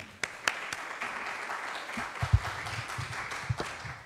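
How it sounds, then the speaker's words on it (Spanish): Audience applause welcoming people onto a stage: a sustained wash of clapping from a crowd, with a few louder individual claps and thumps punctuating it. "recibámoslos a todos ellos con un aplauso"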